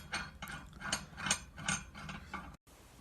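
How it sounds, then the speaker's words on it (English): A ratchet clicks in several quick bursts as a clutch puller is screwed into a snowmobile's primary clutch, loud and close, pausing briefly near the end. "take your clutch puller, insert that, and start to screw it in."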